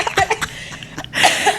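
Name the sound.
cough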